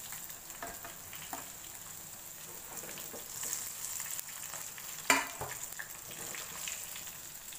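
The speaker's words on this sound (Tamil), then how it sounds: "இதே மாதிரி ரிமைனிங் இருக்க பீசஸ் எல்லாத்தையும் போட்டு பொறிச்சு எடுத்துருங்க." Fish pieces fry in oil for a Tamil Nadu style fish biryani, a soft continuous sizzle heard close with light stirring scrapes and one sharp clatter midway.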